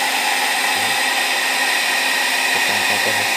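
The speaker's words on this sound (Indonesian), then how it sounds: "Kita pakai hair dryer kurang lebih 15 hingga 20 menit." A hair dryer blows hot air over a freshly screen-printed t-shirt, a loud steady whirring roar that holds constant throughout with a slight shift in tone near the end.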